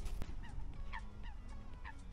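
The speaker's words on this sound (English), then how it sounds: "It was just some birds." Geese-like honking and fowl calls ring out from birds near a winter carp fishing lake, several short honks repeating at a moderate distance over a low outdoor background, with no talk.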